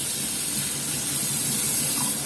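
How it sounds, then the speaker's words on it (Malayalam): Water is poured into a pot of Kerala-style river fish curry cooking with kudampuli, a steady, fairly loud splashing gush lasting a couple of seconds with no voices. "ഇച്ചിരി വെള്ളം കൂടെ ഒഴിച്ചു കൊടുക്കാം"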